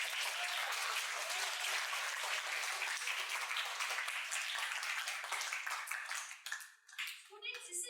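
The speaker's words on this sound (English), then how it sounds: "Needs a big round of applause." Sustained applause and clapping from a school audience at a model UN event, loud and continuous for several seconds before thinning into scattered claps near the end.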